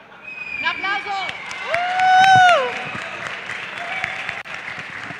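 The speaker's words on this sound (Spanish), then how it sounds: "¡Un aplauso!" A crowd applauds at an award ceremony for winners of technology challenges, with steady clapping under high, wavering whoops and cheers that swell in the middle and then ease off.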